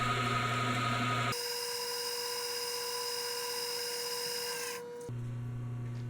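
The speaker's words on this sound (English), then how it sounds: "I'm going to drill a hole in the center first" A center drill runs steadily into the twisted-off end of a frozen axle bolt on a Wheel Horse Model 401 tractor, a constant machine whine with a tonal hum that cuts in sharply, holds, then drops in pitch near the end.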